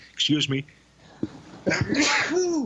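A single sneeze bursts out near the microphone, followed by a brief voiced exhale and some muffled vocal sounds.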